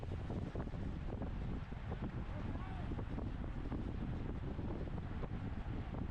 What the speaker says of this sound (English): it was like definitely exposed to a lot of wind